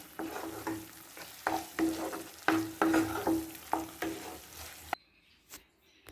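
Chicken liver fry with ground pepper stirred in a pan, a close sizzle punctuated by repeated scraping strokes of a spatula, then abruptly dropping to near silence with a few faint clinks.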